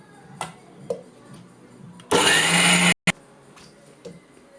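Mixer grinder blending groundnuts and jaggery for laddu: one loud, steady whirring burst of under a second, then a brief restart blip, with quiet taps and handling noises before and after.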